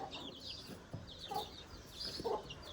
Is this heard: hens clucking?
yes